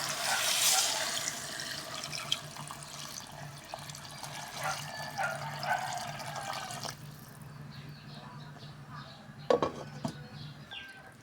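Broth is poured into a cooking pot with a continuous splashing gush for about seven seconds, then fades into quieter trickles and a brief clatter near the end.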